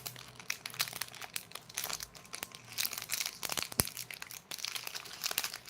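Hazelnut chocolate snack wrapper crinkling up close, a steady run of sharp crackles and crunches for several seconds with no talking.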